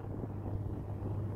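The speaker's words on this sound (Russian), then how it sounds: "Кстати, жуткий ветер, хоть и этого не видно на кадре" Steady low rumble of strong wind buffeting a microphone on a hilltop, a constant close roar with no voices.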